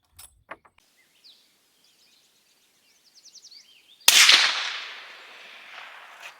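A suppressed .416 Ruger elephant rifle fires a single loud, sharp shot with a broad hiss-like decay, preceded by quiet clicks and faint bird chirps.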